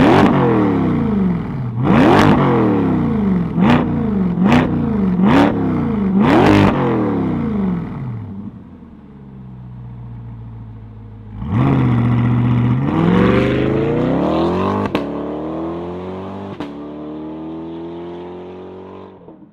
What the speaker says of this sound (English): Let's fire it up and hear its roar.